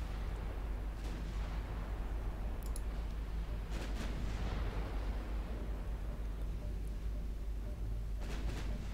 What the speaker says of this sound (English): Ammo detonation, yeah.